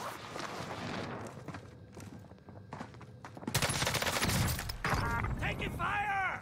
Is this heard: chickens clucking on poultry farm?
no